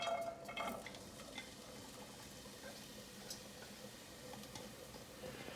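Chopped onion, about three quarters of a medium one, frying in oil in a pan, a faint steady sizzle with light stirring scrapes early on and no talk.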